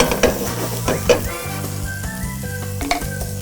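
Garlic and peppers sizzle in a hot pan while being stirred, with a steady close fry broken by several sharp scraping stirs and clinks of the utensil.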